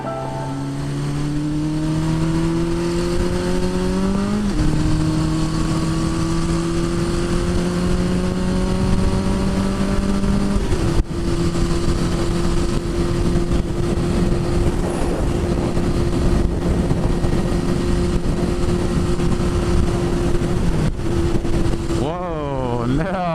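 A Suzuki GS 1000 motorcycle engine, freshly fitted with adjusted valves and a Dyna ignition, runs loud and steady and close by, revving up in stepped rises and holding high, with a brief drop and a final blip of throttle at the end.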